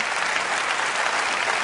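An awards-ceremony audience applauds a man's wife with a short, steady burst of dense clapping from many hands, fairly loud and even throughout.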